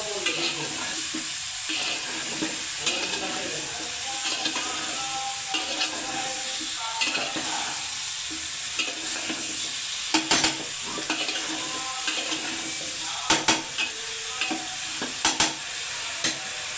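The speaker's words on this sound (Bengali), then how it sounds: "এখন লাউগুলো দিয়ে দিব আমি লাউটা সুন্দর করে কষিয়ে নেব" Chopped bottle gourd stir-fried in oil and cooked spices in a pan, a steady sizzle broken by scraping spatula strokes and occasional sharp clacks against the metal.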